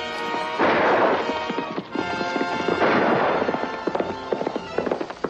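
Horses galloping with rapid, irregular hoof clip-clops close by, rising in bursts of dense pounding and thuds across the stretch, with no voices.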